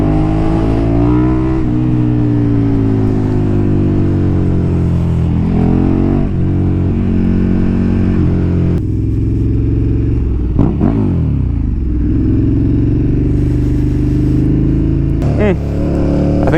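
KTM 1290 Super Duke R motorcycle accelerating hard in a power wheelie, a loud, close engine with rising harmonics through several gear changes and revs, a brief throttle lift midway, with someone talking over it.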